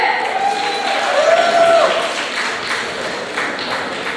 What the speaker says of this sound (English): Can I get a louder round of applause for Ajay?